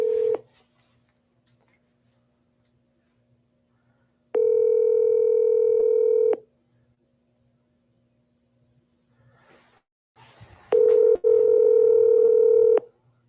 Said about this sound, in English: let's call Thomas.